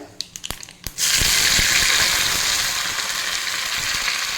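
Mustard seeds pop in hot oil with a few sharp crackles, then curry leaves hit the pan and a loud, sustained sizzle erupts, while cooking bottle gourd kootu with the stove switched off.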